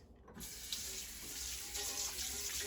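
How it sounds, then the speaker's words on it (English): A tap runs into a sink while a mixing bowl is rinsed, a soft steady stream of splashing water heard faintly and close, with small shifts as the bowl moves under the flow. "So I'm going to rinse my mixing bowl out."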